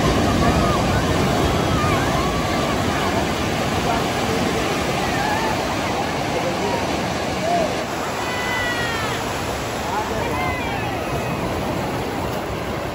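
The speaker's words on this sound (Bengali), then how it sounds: "বাকি এই হচ্ছে দীঘা সমুদ্র সৈকত" Sea waves wash steadily onto Digha beach in a continuous roar with wind noise, and a faint voice sounds through it now and then.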